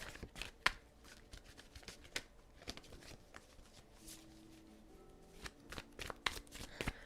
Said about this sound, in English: every time I go to shuffle the cards